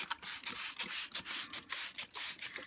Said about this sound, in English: Then my handy dandy spray bottle.